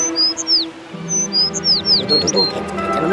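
A small bird gives several sharp, high chirps in quick bursts, close and clear, while people talk over it near the end.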